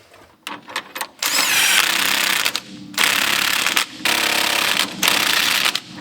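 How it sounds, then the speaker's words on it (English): Lock nuts being tightened on the steering arm of a 1967 Pontiac Catalina during a power disc brake upgrade: loud bursts of a power tool whirring and rattling, several separate runs with short pauses, close by and without talk. "We can tighten these down now."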